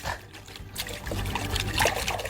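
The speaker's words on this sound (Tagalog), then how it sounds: "banlawin po natin sa tubig para makita natin yung kanyang mga ugat" Plant roots being rinsed in water during transplanting give close trickling and splashing, uneven dribbles and small pours of water, with a few soft handling knocks, and no talking.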